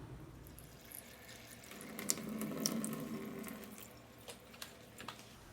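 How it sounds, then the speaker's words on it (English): Fertilized water solution flushes through a potted Maxillaria tenuifolia orchid in semi-hydroponic media at a sink, a soft, steady running and splashing with a few faint drips and clinks. The sound is quiet and close, and no one speaks. "let's head over to the sink and I will show you how that's done"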